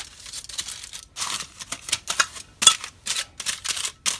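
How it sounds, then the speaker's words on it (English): Crinkly aluminum foil being torn and pressed into a square baking pan, a series of sharp rustling bursts with brief pauses between. "I'm going to put a piece of foil in this square pan."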